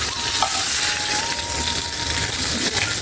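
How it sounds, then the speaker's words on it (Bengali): Pieces of snakehead fish frying in a pan at home, a steady close sizzle and crackle of hot oil running without pause throughout, with no voices. "আমার মাছগুলো ভাজা হয়ে গেছে।"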